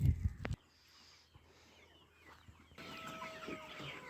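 Desi free-range chickens on a poultry farm cluck in short bursts, fairly close, with one louder burst at the start and lighter scattered clucks afterward over outdoor ambience.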